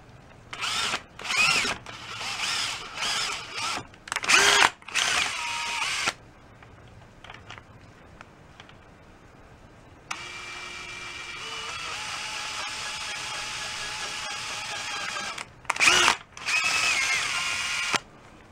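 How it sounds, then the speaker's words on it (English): A power drill fitted with a 10-24 cap driving a swivel nut on a 1938 Leedy Broadway Parallel snare drum whirs in several short bursts, then one longer steady spin before a few more quick bursts. "I'm going to put a 1024 cap in my drill here."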